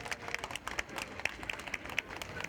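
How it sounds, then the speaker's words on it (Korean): Applause rises from a crowd of workers at an outdoor political party rally, a quiet, distant patter of many hands clapping steadily with no speech over it. "힘찬 박수 부탁드립니다."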